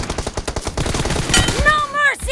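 Loud, rapid automatic gunfire from a PUBG Mobile match, a fast string of close shots ending in a few ringing ricochet-like tones, with a voice talking underneath.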